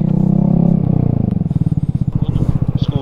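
Vespa GTV 300 scooter pulling away on a side street, a close engine putter settling into a fast pulsing idle-to-throttle rhythm, with a brief voice over the start.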